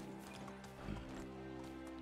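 A donkey on the farm in the medieval farming video game Medieval Dynasty gives a steady equine vocal call with hoof-like clatter, close and fairly even throughout.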